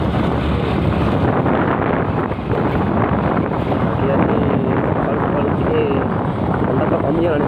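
Strong, cold wind buffets the microphone in a continuous loud rush that never lets up, with no clear voices standing out.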